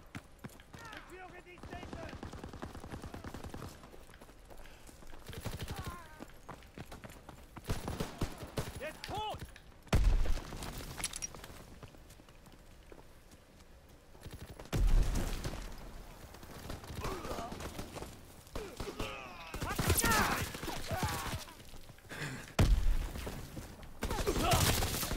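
Mounted turret gunfire in a Call of Duty WWII multiplayer match: dense, rapid bursts of shots, loud and close, arriving in repeated waves over about 25 seconds, with a player's voice heard in places.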